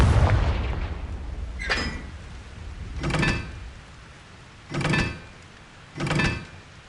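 Confringo blasting spells go off in Hogwarts Legacy: four separate whooshing bursts, each a sharp crackling blast fading quickly, spaced a second or so apart over a low background rumble, with no talking.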